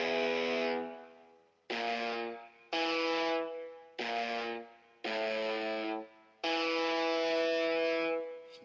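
A riff on a distorted electric guitar played in GarageBand on an iPad, six chopped bursts of chugging chords separated by short silences, clear and alone.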